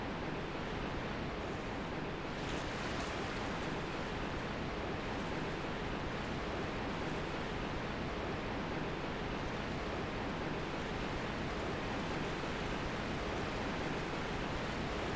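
Steady broadband rush of a waterfall in Dark Souls, continuous and even throughout with no talk over it.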